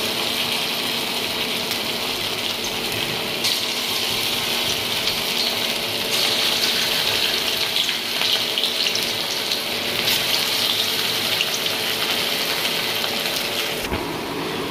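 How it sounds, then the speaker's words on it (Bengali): Balls of mixed chicken and onion frying in hot mustard oil give a loud, continuous, dense hiss and crackle that holds steady close by, with no talking. "এই পেঁয়াজ আর চিকেন মিক্স করা এটাকে গোল করে এরকম বলের মতন করে এর মধ্যে ছাড়বো"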